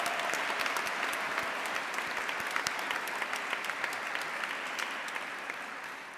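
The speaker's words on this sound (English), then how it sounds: "Another round of applause." A crowd at a baccalaureate service gives another round of applause, dense sustained clapping that stays loud and even before easing slightly at the end.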